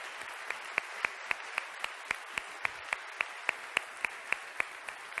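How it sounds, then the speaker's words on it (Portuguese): Rhythmic unison clapping from a church congregation during a service, steady beats about every quarter second over a diffuse wash of crowd noise, moderately distant and without talk. "Você pode dar um forte aplauso para aquele que é comprometido?"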